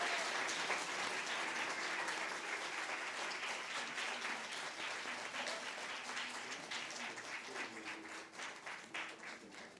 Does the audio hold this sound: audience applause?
yes